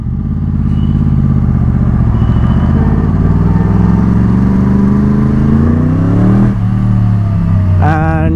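A Yamaha R1 superbike engine revs loudly and close up, its pitch climbing steadily before dropping back, then rising again sharply at the end.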